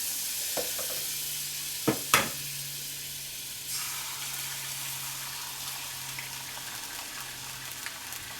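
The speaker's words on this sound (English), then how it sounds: "I want to cook the egg, not cremate it." Egg frying in butter in a hot pan, a steady soft sizzle running throughout with a few sharp clinks and scrapes near the start, close and fairly quiet.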